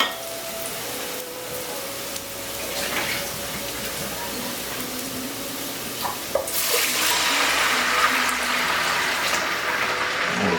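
Water pours steadily into a pot, growing louder and fuller partway through, with a light clink of cookware along the way.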